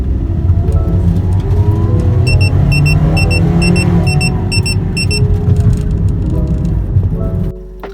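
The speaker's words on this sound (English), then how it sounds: "So here is the RPM alarm just now." An OBD2 meter's RPM alarm beeps in rapid repeated bursts of high tones over a loud, droning car engine as it revs, then the engine note drops near the end.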